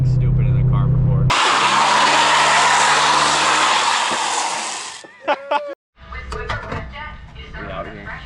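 Toyota GT86 with an E85 tune driving on a highway, a loud, steady broadband road and engine roar filling the cabin for several seconds before cutting off abruptly, followed by clicks, knocks and a few bursts of voices.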